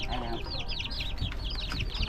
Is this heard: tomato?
no